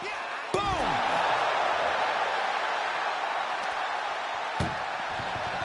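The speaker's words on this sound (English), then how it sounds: "Trying to at least slam one door shut" An ambulance door slams shut in a WWE 2K24 wrestling match, one sharp loud bang early on followed later by a second, softer impact, over steady crowd roar and an announcer's commentary.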